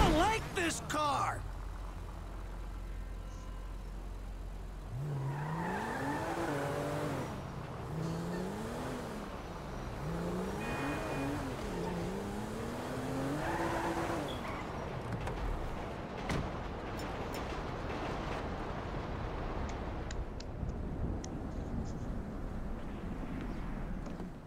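A car is driven in Grand Theft Auto V story mode, its engine revving and shifting through repeated rising and falling runs beneath game dialogue, with a voice speaking early and later crashes and clatter near the end.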